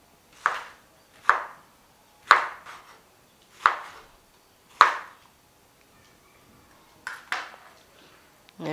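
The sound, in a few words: knife chopping a big mango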